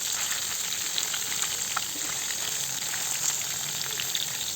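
Fish fries in a pan for an Assamese fish curry with taro and elephant apple, a dense, continuous sizzle and crackle close by, with faint pops scattered throughout and no talking.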